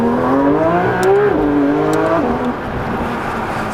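A Porsche 992 GT3 RS engine revs up and down, its sharp climbing and falling tones close and loud over a steady roar, with no talking.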